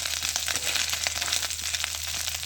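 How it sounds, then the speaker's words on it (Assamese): Fish frying in a pan gives off a steady, close crackling sizzle that holds evenly throughout, with no voices over it. "এইফালে ভাজি আছোঁ মাছ।"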